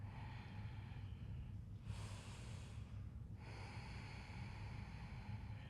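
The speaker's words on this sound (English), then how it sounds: "Focusing on calm, steady breathing." Calm, steady breath during a yoga flow, one long soft airy exhale swelling and fading, then a quieter breath, heard close over a steady low hum.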